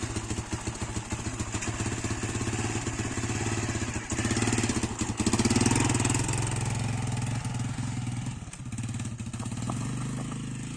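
A small Viper MX 200 motorcycle engine runs steadily at a low idle, its buzzing putter continuous throughout with a slight rise in revs partway through.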